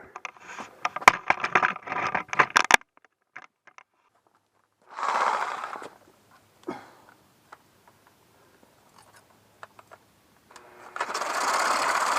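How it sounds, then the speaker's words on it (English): A Super Sawzall reciprocating saw cuts during track removal on a Caterpillar 267B, in short loud buzzing bursts separated by quiet gaps with scattered clicks and knocks. "This is a super Sawzall."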